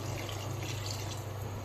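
Water poured into a pan of hand-mixed chicken bhuna curry as it cooks, a steady close liquid wash with a low hum beneath, continuous and without talk.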